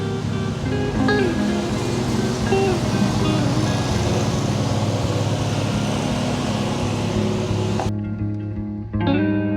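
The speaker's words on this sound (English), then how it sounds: "My wife chose this moment to mow." A lawn mower runs steadily outdoors on a homestead, its constant engine drone filling the background before cutting away abruptly near the end.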